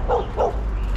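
Dogs barking along the Estrada de Sete Tanques street in Taipa, Macau: two quick, fairly close barks in a row over low outdoor rumble.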